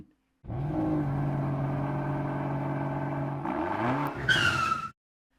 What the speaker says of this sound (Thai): รถยนต์ไฮเปอร์คาร์หรูสีดำสนิทบูกาติลาวอยเจอร์นัว ราคาเก้าหลักขับเข้ามาจอดที่หน้าโรงแรม 5 ดาวสุดหรู